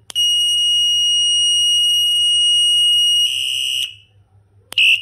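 An electric bicycle bell's reversing beep: a shrill, steady electronic tone holds for several seconds, warbles briefly, cuts off, then starts again; loud and close with no voices.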